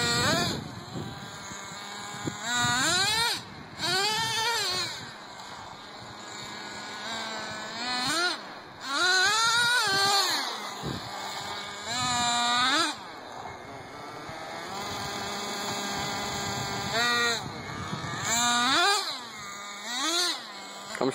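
Traxxas Jato 3.3 nitro RC car doing burnouts, its small nitro engine whining and surging in repeated rising and falling revs, loud and close, with tyre scrabble in short bursts across the run.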